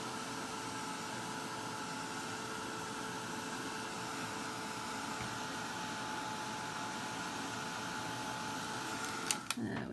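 A handheld heat tool blowing hot air to dry a mini art journal page, a steady, even whirring drone that runs the whole time and stops abruptly near the end with a couple of clicks.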